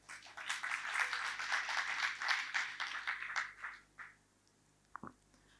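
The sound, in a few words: church congregation applause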